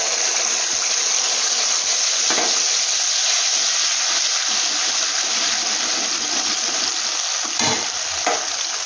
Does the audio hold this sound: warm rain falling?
no